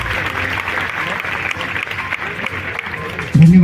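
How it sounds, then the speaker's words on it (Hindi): A crowd at the opening of the Bhagalpur festival applauds loudly to welcome guests, a dense and steady roar of clapping that ends in a sudden low hum. "जोरदार तालियों से इनका स्वागत करें।"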